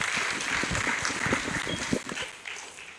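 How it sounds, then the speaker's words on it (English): Conference attendees at a university gathering in Abuja applaud the Irish Ambassador, a dense, fairly distant patter of many hands that holds steady, then thins slightly near the end. "A round of applause for him, please, ladies and gentlemen."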